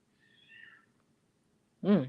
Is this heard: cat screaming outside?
yes